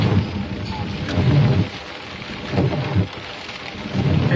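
Thunderstorm heard during a storm chase, with steady heavy rain and wind and rolling low thunder rumbles that swell and fade several times, loud and close throughout.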